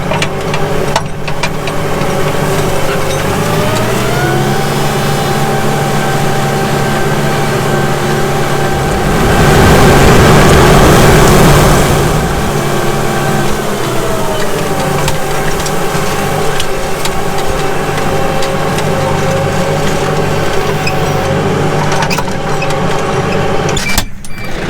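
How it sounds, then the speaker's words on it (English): A heavy tractor engine on a farm runs continuously with a droning hum that rises in pitch and swells louder midway, then settles back to a steady rumble. "let's get back in the tractor"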